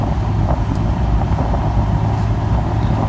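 Inside a 2017 FIAT 124 Spider Lusso roadster on the move, the inline-four engine stays subdued beneath a steady wash of road and wind noise, with no talking.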